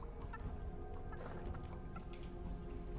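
A chicken in the video game Fortnite (Chapter 3 Season 4 live event), clucking and gobbling in a faint, quick run of short calls over a low background hum.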